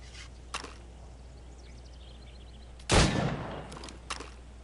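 Gunfire at targets in the video game Assassin's Creed Rogue: one loud, sharp shot with a short decaying tail midway, and a few faint clicks and pops before and after.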